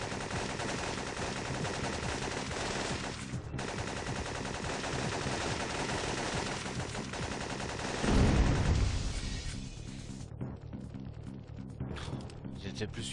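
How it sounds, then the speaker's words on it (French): Gunfire in a first-person shooter mission, a pump-action shotgun among the weapons, with rapid continuous shots and loud bursts layered densely through the scene, one heavy low blast near the middle, while people talk over it. "Arrête de tirer avec ton fusil à pompe, toi."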